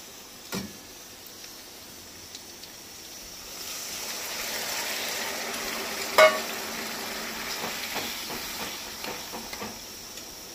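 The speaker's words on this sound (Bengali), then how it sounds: "দেখো এবার আমি এর ওপরে দিয়ে দেবো জল।" Water poured into a hot pan while cooking pulao, a soft rising hiss and sizzle that builds and settles, with a brief clatter partway through and no talk.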